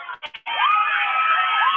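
Crowd at a North Linn vs Maple Valley boys state basketball game, a brief burst of noise then sustained loud cheering and shouting from the stands.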